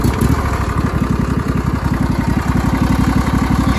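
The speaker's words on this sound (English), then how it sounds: "Let's go mow all the tall grass" A Craftsman riding lawn mower engine, a junkyard machine about 22 years old, runs steadily with an even, rapid low chugging, close and continuous, with no talk.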